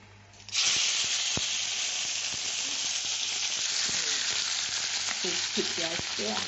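Prawns hit hot oil in a pan for Icha fish chili paste, bursting into a loud, steady sizzle that continues throughout with occasional sharp pops and crackles.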